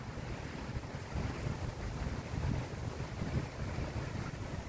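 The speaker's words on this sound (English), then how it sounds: "Very windy, as you can see." Strong wind and surf at a shore, a constant low roar of gusts buffeting the microphone over breaking waves, steady and full with no talking.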